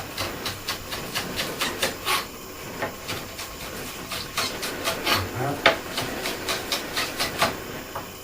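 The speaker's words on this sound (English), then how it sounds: "one way of doing them finely chopped is you just chop them like that" A knife chops vegetables finely on a board for chicken noodle soup, with quick rhythmic taps and scrapes repeating close and moderately loud, and a voice talking over the chopping.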